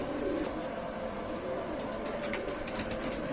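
A Sialkoti Motio-Wale Rampuri pigeon coos softly in repeated low calls over a steady background hiss and faint ambient noise.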